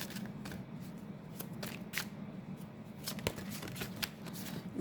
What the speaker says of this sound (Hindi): इसलिए मैं पहले ही कार्ड्स निकाल लेती हूँ.